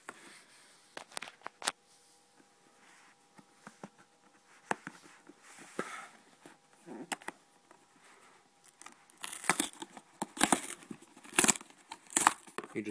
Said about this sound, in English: Now I'm gonna open this package. Open the paper.